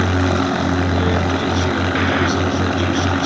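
A Hispano Buchon propeller aircraft taxis at the Duxford Battle of Britain Airshow, its engine giving a loud, continuous close-up drone with slight pulsing throughout.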